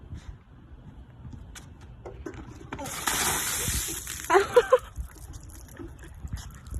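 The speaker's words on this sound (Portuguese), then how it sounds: "toda a água virou e entornou bem em cima dele" Water pours off a sail structure in a sudden splashing gush onto a man, a loud burst of slosh and splatter over low background noise, with a voice audible in the mix.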